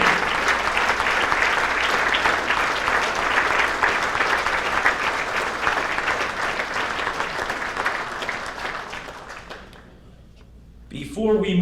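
A Hall of Fame induction audience in Woburn gives a loud, dense round of applause for the inducted athletes, sustained for about nine seconds before thinning out, with a voice starting at the end.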